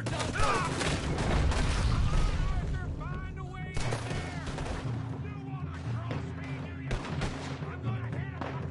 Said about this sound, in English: God damn it, he's shooting me.